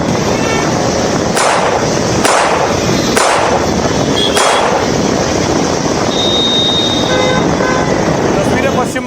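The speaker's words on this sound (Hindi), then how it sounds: "बाइक सवार उतरा है, बंदूक निकाली है और बीजेपी नेता के घर के बाहर 2 फायर किए" Two gunshots fired outside a BJP leader's house in Barrackpore, West Bengal, sharp loud cracks among several repeated blasts over constant street noise, with a car horn tooting and a voice speaking.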